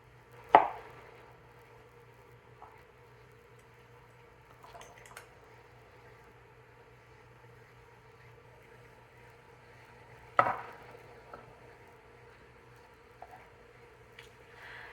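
A knife slices through soft tofu puffs on a cutting board while cooking pork belly and tofu puff: two crisp, close cuts about ten seconds apart, with faint kitchen handling noises in between.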